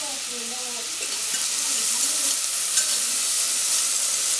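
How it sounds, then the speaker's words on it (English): Minced onion and vegetables sautéing in a pan over medium heat, a steady loud sizzle that swells slightly and holds throughout, with a faint clink early on and no talking. "I'm just going to saute these vegetables"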